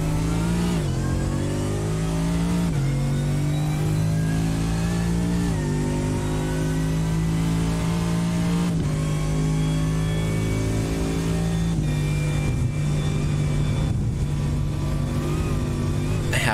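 Racing car engines in iRacing, Mercedes and BMW race cars battling at Spa-Francorchamps during a 24-hour endurance race, drone loudly and continuously, rising and falling in pitch through gear changes with no break.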